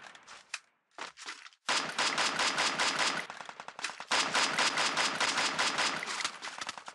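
Bursts of rapid machine-gun fire from escaped prisoner Toka, a few short rattles and then long sustained volleys, loud and close, with no speech over them.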